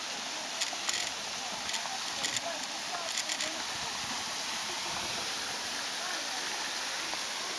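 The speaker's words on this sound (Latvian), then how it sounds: "Esam pie Daudas upes ūdenskrituma" Waterfall on the Dauda river in a ravine, a dense, steady roar of rushing water filling the whole clip evenly, with faint clicks on top and no talk.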